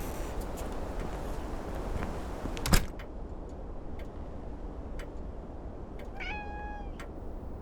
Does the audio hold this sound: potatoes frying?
no